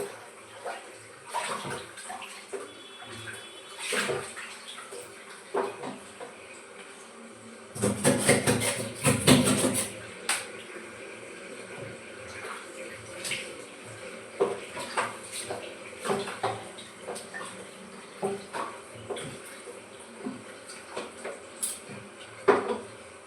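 Water runs from a kitchen tap into a sink while dishes are being washed, with a steady low splash, a louder gush in the middle and scattered clinks of utensils throughout.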